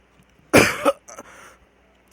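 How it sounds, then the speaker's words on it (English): A single dry cough bursts out close and loud, followed by a smaller throat-clearing rasp, then quiet. "Sorry, I got dry cough there"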